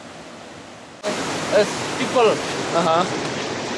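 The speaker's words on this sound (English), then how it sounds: "Look at that, those waves are huge." Large ocean waves break on a beach in East Indonesia, a broad steady roar of surf that surges in abruptly and continues loud while people talk over it.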